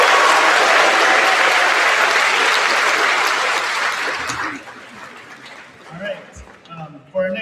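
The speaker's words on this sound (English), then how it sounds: "Let's give them all a round of applause." Loud, dense applause from a graduation audience fills the hall for about four seconds, then thins into scattered claps and murmuring voices.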